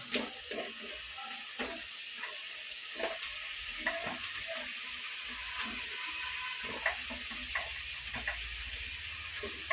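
Tomato, drumstick and radish fry for a dried fish curry, with a steady close sizzle broken by frequent scrapes and clacks of stirring in the pan.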